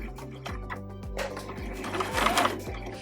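A sewing machine runs a short back stitch on a small fabric pencil pouch, its steady mechanical chugging broken by a few distinct rhythmic shifts as the stitch reverses, close and moderately loud with no talking.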